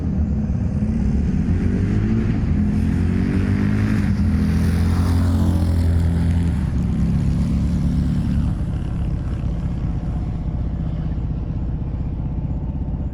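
A Harley motorcycle on an eighth-mile drag strip roars loud and steady, its engine note rising through the run before settling into a constant drone.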